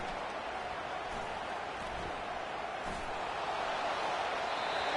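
A home crowd roars in an LSU versus Louisiana Tech college football video game, a steady, dense wash of cheering that holds at an even loudness for the whole stretch.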